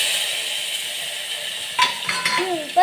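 Mustard seeds, cumin and asafoetida sizzle in hot oil as a steady, bright crackling hiss, with a few stirring knocks and a voice talking over it in the final second.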